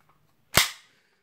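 The slide on a WE P226 airsoft pistol snaps home once against its slide catch: a single sharp, close metallic crack with a short tail, alone in otherwise quiet surroundings.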